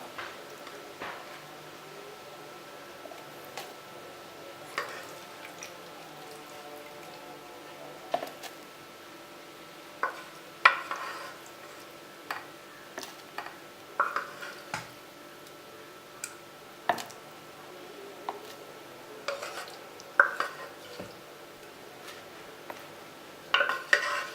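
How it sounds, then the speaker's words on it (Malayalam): Pumpkin pola batter being whisked in a bowl, a quiet run of irregular ticking clinks and scrapes against the bowl with brief louder taps spread throughout. "നമുക്കിത് നന്നായിട്ടൊന്ന് അടിച്ചെടുക്കാം"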